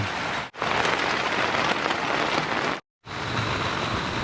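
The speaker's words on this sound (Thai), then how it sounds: "ฝนตกแบบไม่เกรงใจใคร" Heavy rain pours steadily onto a tent during a two-day mountain hike, a loud dense hiss that cuts out briefly twice before resuming with the same intensity.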